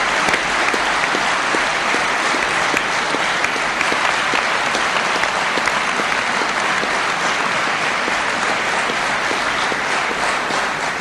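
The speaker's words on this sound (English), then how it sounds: "Let's give them a well-deserved applause for their prayers," Sustained applause from a large university convocation audience honouring the parents of the graduating class, dense even clapping filling the hall for about eleven seconds with no talk.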